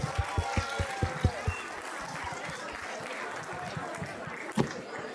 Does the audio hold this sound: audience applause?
yes